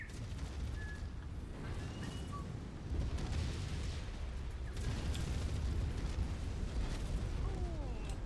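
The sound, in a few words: enemy mech explosion in video game MechWarrior 5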